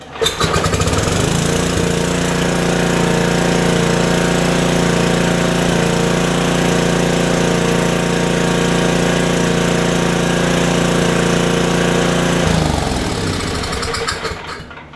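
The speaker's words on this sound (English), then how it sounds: "Then I have to go back off a choke and hope that it starts." A small engine runs steadily after a choke start, a loud, continuous rough drone lasting about twelve seconds before it cuts out, with no talking.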